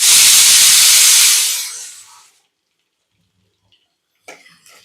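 Fish curry masala hitting a hot pan, a loud burst of hissing sizzle that fades away over about two seconds, followed by near silence and a short clatter at the end.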